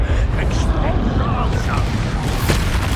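Expulso, an explosion spell in Hogwarts Legacy, goes off in a loud, rumbling blast that fills the whole moment with dense roaring noise, mixed with game sounds and a voice.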